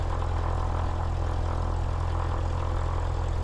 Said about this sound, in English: Alright, so I'm going to start with a taxi.